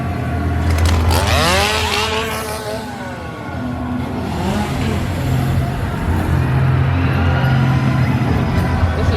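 Chainsaws revving in the Dark Zodiac zone at Halloween Horror Nights 2023, loud buzzing engine whines that rise and fall close by amid a noisy crowd, with people talking throughout.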